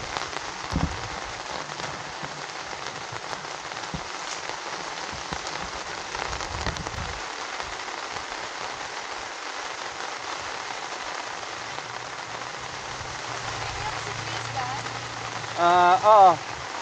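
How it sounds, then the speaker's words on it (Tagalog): Heavy rain drums steadily on surfaces at a rainy moto-camping site in Tanay, Rizal, a continuous broadband hiss that runs throughout, with a brief louder burst near the end. "medyo malakas yung ulan ngayon dito."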